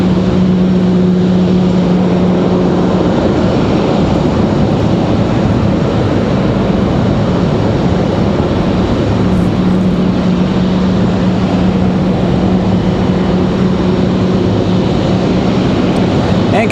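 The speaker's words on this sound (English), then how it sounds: "Looks like we might have that Delta 737 there go out in between our two 777s" A Delta Boeing 737 departs Raleigh-Durham airport, its jet engines a loud, steady broadband roar with a low drone holding through the whole stretch, no voices over it.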